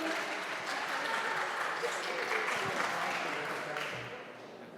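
A live audience claps steadily for a team called to the side of the stage, a dense, even patter lasting about five seconds before it begins to thin and fade.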